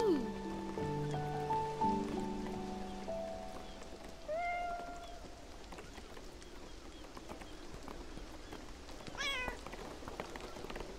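A cat meows a few times in the video game Beyond Eyes, amid game music and ambient water sounds, with a brief higher mew near the end.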